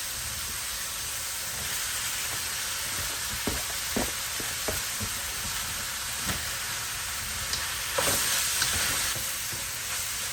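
Cabbage tipped into a pan of sautéing peppers sets off a steady loud sizzle and hiss, punctuated by sharp clicks and scrapes of stirring, with a brighter burst of frying near the end.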